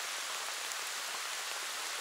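Steady, dense rain falls outdoors during a pike fishing trip, a constant even hiss with no pauses.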